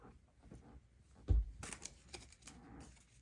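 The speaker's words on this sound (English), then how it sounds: "I always shuffle my cards up and back." Tarot cards being shuffled by hand up and back, a few soft riffling bursts, quiet and close.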